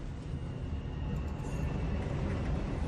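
A subway train rides toward Harlem in a movie scene, a low steady rumble of wheels and car noise that swells slightly, heard alone at moderate level without talk.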